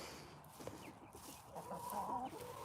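Chickens cluck and murmur softly nearby, a low continuous chatter with a few louder calls rising near the end, outdoors and otherwise quiet.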